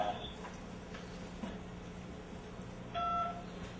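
Telephone dialing tones play over a speakerphone as a call is placed to a classroom podcasting line. A couple of short electronic tone pairs sound near the end, faint against steady background hiss.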